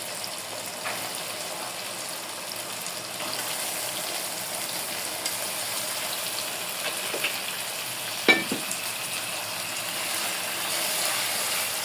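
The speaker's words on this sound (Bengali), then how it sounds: "খাসির গোশ দিয়ে দেবো।" Mutton pieces frying in a pan of cooked-down spice masala: a steady, low sizzle throughout with faint stirring scrapes and one brief clunk of a utensil near the end.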